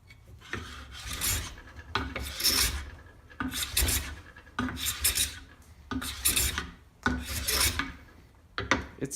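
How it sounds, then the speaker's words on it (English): A card scraper made from an old Stanley hand plane shaves thin curls off a wood surface in a steady series of rasping strokes, about five long passes with short pauses between, close and alone. "Taking the smallest of shavings right now."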